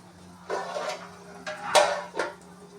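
Corn cobs drop into a cooking pot one after another, giving three hollow, clattering knocks spread over a few seconds in a quiet kitchen.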